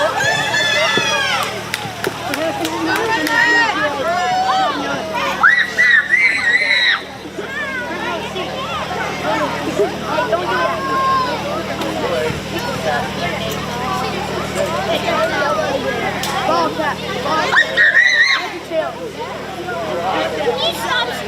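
Children shout and scream amid crowd babble and splashing at a county fair pedal tractor pull, with dense overlapping voices throughout and sharper shrill bursts near the start and again late.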